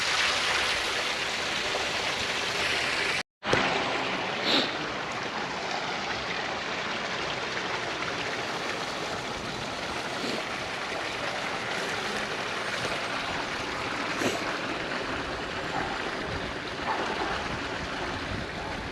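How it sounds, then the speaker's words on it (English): A small waterfall and stream in Scotland: steady, dense rushing and splashing water from nearby, continuous throughout with one brief dropout near the start. "then you get tiny little waterfalls, which I've got to make sure I don't fall in."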